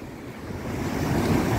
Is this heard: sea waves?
yes